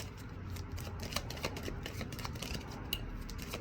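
Soft, quiet riffling and flicking of tarot cards being shuffled close by, a steady papery rustle with small snaps.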